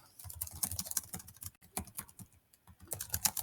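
Rapid typing on a computer keyboard while editing text in a Google Doc, with dense irregular clacks, brief pauses and quick bursts of keystrokes close up, no voices.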